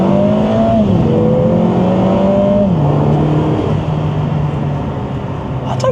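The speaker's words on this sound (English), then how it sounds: "try this new inline 4 Mercedes AMG engine" Lotus Emira i4 with a Mercedes-AMG inline-4 engine running in town, loud and close, revving through several gear changes with rising then dropping tones, settling into a steadier cruise drone.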